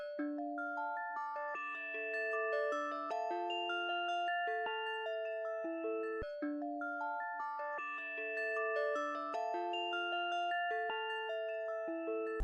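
Bounced Analog Lab keys play a dark beat melody, a stepping sequence of clear bell-like notes over sustained lower tones, repeating its phrase after about six seconds, steady and alone.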